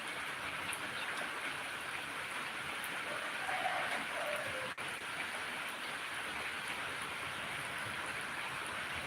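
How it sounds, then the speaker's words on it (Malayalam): Rain pours down outdoors as a steady, even hiss of falling water that continues unbroken at moderate volume from start to finish. "മഴ ഒന്നുകൂടി വന്നുകൊണ്ടിരിക്കുകയാണ്"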